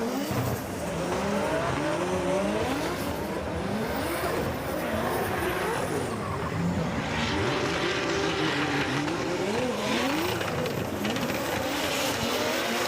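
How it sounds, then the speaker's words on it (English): Drift car at full throttle on the F1 circuit at Yas Marina during an Emirates Drift Championship round, engine roaring loud and continuous with tire squeal and skidding, a second car nearby, for the whole stretch. "He opens the throttle and drives away from Robert Babagulian,"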